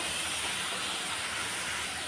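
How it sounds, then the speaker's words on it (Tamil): Chopped onions sauté in a pan for an egg gravy, giving off a loud, continuous close sizzle with a dense, steady hiss throughout and no voices. "இப்போ வெங்காயம் வந்து நல்லா வதங்கி விட்டுக்கலாம்"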